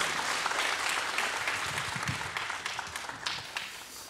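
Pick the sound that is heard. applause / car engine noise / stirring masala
applause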